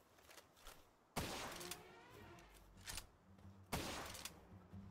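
Two sharp, loud gunshots from a firearm in the video game Palworld, about two and a half seconds apart, each with a lingering tail, fainter game ambience and small thuds between them.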